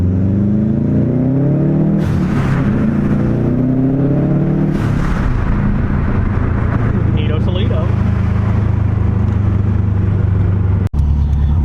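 A 2007 Subaru STI with a front-mounted intercooler accelerating hard through a tunnel, engine roaring and rising in pitch with turbo whine and whooshing blow-off bursts, loud and close, while a person talks over it.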